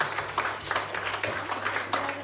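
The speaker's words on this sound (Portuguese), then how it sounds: "Salve de palmas para todos." Applause from a crowd at a ham raffle gathering at a Portuguese community centre, a short burst of scattered clapping with some voices mixed underneath.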